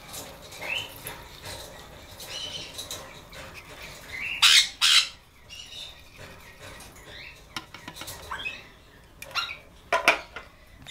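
Pet birds squawk in short, sharp bursts indoors, with louder shrieks standing out among scattered chirps and rustling, heard alone with no one talking.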